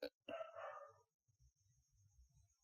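Dogs bark down the street, one sharp distant bark followed by a longer bark burst, then a quiet stretch with faint low talking.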